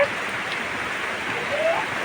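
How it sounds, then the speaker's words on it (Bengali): Rain starts falling again around a home during heavy weather, a steady even hiss of drops that runs without a break through the short stretch. "এই যে আবার বৃষ্টি শুরু হয়েছে।"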